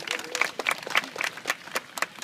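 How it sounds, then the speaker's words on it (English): A modest crowd claps at an outdoor bird show at Taronga Zoo, a short, light patter of scattered hands lasting about two seconds with no talking. "Big round of applause for him, guys."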